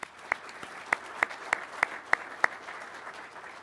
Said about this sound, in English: let's give a round of applause for all of our support personnel